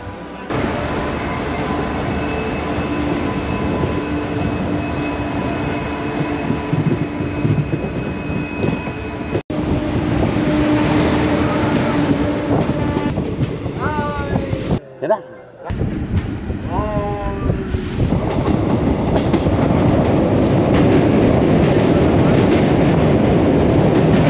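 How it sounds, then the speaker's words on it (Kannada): A train at Mysuru City Junction station: steady rumbling and rail clatter with a brief dropout midway, people talking faintly underneath throughout. "ಟ್ರೈನ್ ಈಗ ಮೈಸೂರು ಸಿಟಿ ಜಂಕ್ಷನ್ಗೆ ಬಂದಿದೆ."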